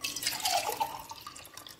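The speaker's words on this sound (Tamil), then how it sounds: "இப்போ வந்து இந்த கிரேவிக்கு நான் தண்ணி ஊற்ற" Water poured into a pot of mutton biryani gravy, a short burst of splashing and dripping close by that eases off toward the end, with no talk.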